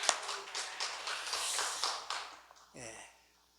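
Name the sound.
congregation clapping in church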